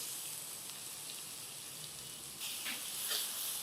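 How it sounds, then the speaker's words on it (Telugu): Grated carrot hits hot oil seasoned with a pinch of turmeric and gives off a soft, steady sizzling hiss that swells slightly toward the end, with no voices. "నూనెలో మనం కోరి పెట్టుకున్నాం కదా క్యారెట్ ఇందులో వేసేయండి."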